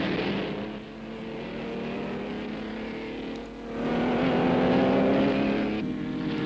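Racing cars from the 1960 Easter Bathurst 100 pass by on the circuit, their engines a sustained roar that dips briefly and then swells louder as more cars come through.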